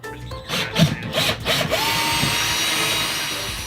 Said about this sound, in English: Then it was just a matter of drilling holes through the rubber flooring to match the holes that I drilled through the metal.